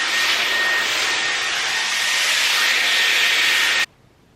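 A Dyson Airwrap hair styler with its straightening brush blows a loud, steady rush of air with a thin whine on top, running continuously before cutting off abruptly near the end, with no talking.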